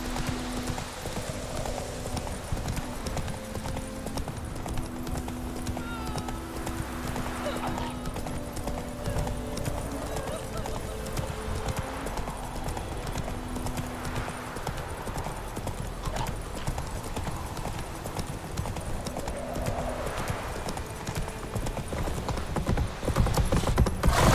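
Horse hooves clip-clop steadily in The Witcher 3 video game, a continuous galloping rhythm heard close throughout, with occasional whinnies and a sustained tonal music or ambience bed underneath.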